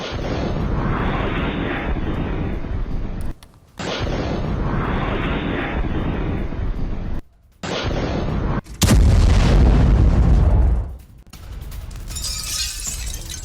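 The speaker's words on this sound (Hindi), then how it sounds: "यूक्रेन के नीप्रो में MLRS से हमला किया गया।" MLRS rocket artillery strikes on Dnipro, Ukraine, in war news footage: sustained loud, harsh roaring blasts over several seconds, with short gaps between them, then a heavier rumbling burst that fades into lingering noise.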